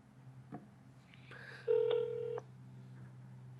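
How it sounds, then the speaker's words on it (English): Telephone keypad dialing tones from a phone lying on a table, a few short beeps and a longer steady tone, faint and alone, ending in a sharp click. "I'll intentionally not pick it up and try to dial again"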